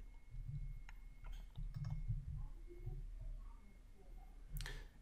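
A few soft computer mouse clicks on a button, close and quiet over a low steady background hum.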